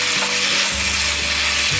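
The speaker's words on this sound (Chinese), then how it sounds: "最后淋上大约2汤匙的黑芝麻油，快速拌炒一下" Black fungus and shiitake mushrooms stir-fry in a pan with organic black sesame oil, giving a steady close sizzle with brief scraping stirs throughout.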